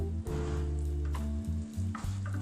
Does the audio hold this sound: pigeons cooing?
no